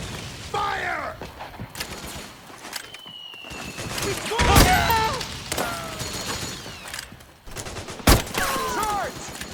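Gunfire in Metal Gear Solid 4 battle: scattered loud shots and heavy bursts crack across the scene, with shouting voices and clattering movement mixed in throughout.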